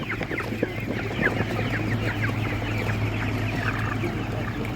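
Broiler chickens cluck and chatter at an outdoor animal market in hot weather, a busy overlapping flock sound at moderate distance, steady throughout with no clear speech.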